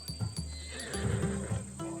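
A Macedonian warhorse, bred for battle, in Assassin's Creed Odyssey gives a loud, close neigh that rises and falls, with hooves clopping and stamping underneath.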